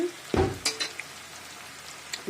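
Ground coriander, turmeric and chilli powder sizzle in a hot pan as the spices are stirred and fried, with a brief loud burst followed by a few softer scrapes and hisses.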